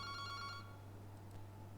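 A telephone rings faintly in a warbling trill during a penetration-testing lesson, sounding for about half a second before cutting off, over a steady low electrical hum.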